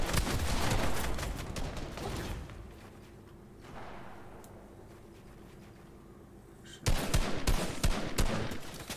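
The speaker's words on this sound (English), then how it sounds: "Oh, they shot that." Fortnite late-game arena trios firefight: dense bursts of rapid gunfire up front, a quieter lull with distant shots and a whooshing effect, then another loud volley of close shooting.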